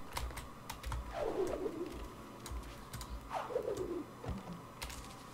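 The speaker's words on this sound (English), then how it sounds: "That's some sort of damn spirit owl or something" In the Ori and the Blind Forest video game, a spirit owl gives two soft, descending cooing calls a couple of seconds apart, faint and alone over quiet background sound.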